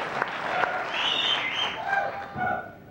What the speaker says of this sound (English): Is that applause for me